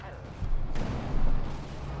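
Booming cannon fire from a Panzer tank and a field gun in the video game Company of Heroes 2, a couple of heavy rumbling blasts over continuous battle noise, with someone talking throughout.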